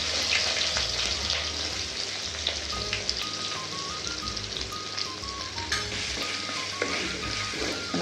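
Sliced large onions sautéing in a pan for a South Indian white vegetable kurma, a dense steady sizzle with clinks of stirring, alone without talk.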